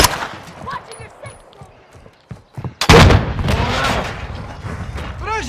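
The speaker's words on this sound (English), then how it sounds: "I'm taking fire!" Gunfire from the video game Call of Duty: Modern Warfare 2 in multiplayer: a few scattered shots early, then a loud sustained burst of automatic fire and booms from about three seconds on, with faint voices at times.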